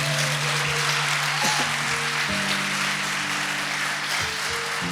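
A church congregation applauds during a sermon in a steady, continuous wash of clapping, while sustained keyboard or organ chords hold and shift beneath it.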